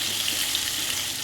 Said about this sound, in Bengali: এটা চিকেন কারি করার জন্য আমরা পেঁয়াজ দিয়ে দিলাম